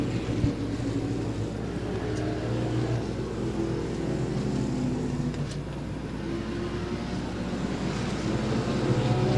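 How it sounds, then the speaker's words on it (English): Dirt track race car number 061 runs after being fired back up, its engine giving a steady, loud rumbling drone with a slight rise in revs toward the end. "Gets that car finally fired back up."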